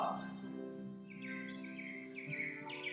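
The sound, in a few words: birdsong in background music track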